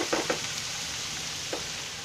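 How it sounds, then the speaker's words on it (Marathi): Red leafy vegetable (lal math) frying in a pan as tomatoes go in: a steady close sizzle, with a few soft stirring taps near the start and another just before the end. "आता त्याच्यामध्ये मी टोमॅटो टाकते"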